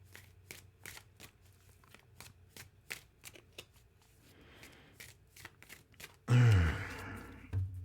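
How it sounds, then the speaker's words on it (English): Oracle cards, portal pathway deck, riffled and shuffled in quick repeated snaps, close and fairly quiet, followed by a louder rustling burst as a card is drawn near the end. "Let's get one more of these portal pathway cards out here."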